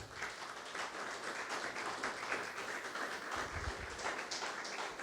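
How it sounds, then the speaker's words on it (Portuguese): Congregation applauding for the Lord Jesus during a Portuguese-language evangelical church service, a steady dense wash of clapping from many hands held at an even level for the whole stretch, with no voice over it. "Aplauda o Senhor Jesus"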